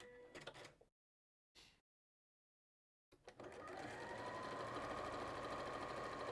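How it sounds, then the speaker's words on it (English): A Brother 560 sewing machine runs steadily for several seconds after two short bursts of stitching, a close, even mechanical whir with a rapid rhythmic needle clatter. "which sewing machine are you using?"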